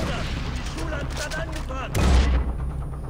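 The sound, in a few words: gunfire from the video game Far Cry 4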